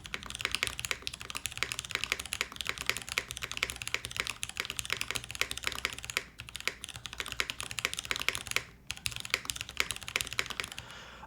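Fast, continuous clacking of keys on a Milan TKL mechanical keyboard, close up, with brief pauses, no talking.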